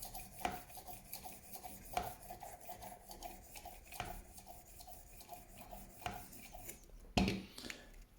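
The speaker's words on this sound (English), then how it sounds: "So I've put the ceramic honing disc on now." Work Sharp rolling knife sharpener with a ceramic honing disc: a quiet, close rasping rub of a knife edge, repeating in a regular rhythm of strokes roughly every two seconds, with a sharper clack near the end.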